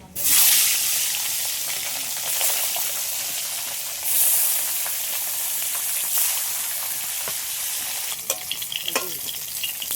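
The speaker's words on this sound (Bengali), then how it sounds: "তেল গরম হয়ে গেছে, মাছ এবার ভেজে নেব।" Fish rubbed with salt and turmeric frying in hot oil in a home kitchen, a steady close sizzle and crackle running the whole time with brief swells and a few spatters near the end.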